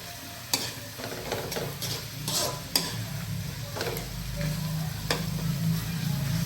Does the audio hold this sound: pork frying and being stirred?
yes